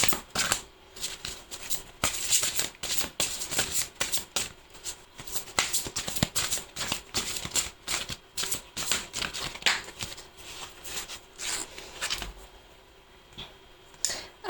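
Oracle cards for a card reading are shuffled by hand in a long, dense run of rapid riffling flutters and soft slaps, close and continuous for most of the stretch, briefly easing near the end.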